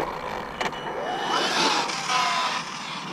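An RC car on a 4S battery drives around on a test run, its electric motor whining and rising in pitch as it speeds past, then fading somewhat at a moderate distance.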